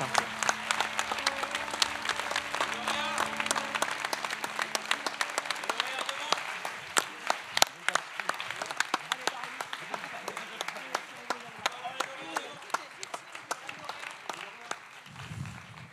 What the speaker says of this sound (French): vous pouvez, pour une dernière fois, applaudir tous les acteurs, les actrices et réalisateurs de cette 30e édition